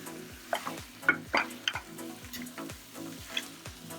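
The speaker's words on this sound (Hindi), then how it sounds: "इसको अब हम मिक्स कर देंगे।" Chicken curry frying in a pan at home, stirred with a utensil in repeated scraping strokes over a steady close sizzle, with occasional sharper clinks against the pan.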